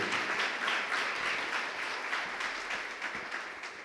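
A church congregation applauds together, a full, steady patter of many clapping hands at moderate volume that slowly eases off over about four seconds.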